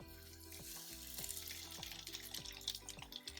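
Fish fillet frying in a hot pan, a steady sizzling crackle that runs throughout, faint and close, heard under a layer of background music.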